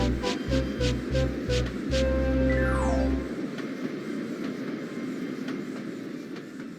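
A train rolls along the rails with heavy rhythmic clunks, then a descending whistle-like tone sounds as the rumble fades into a quieter, steady wash of noise.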